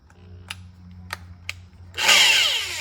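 A power drill with a hole cutter bites into material, starting with a few short taps and then a loud, dense cutting roar that builds in the last second.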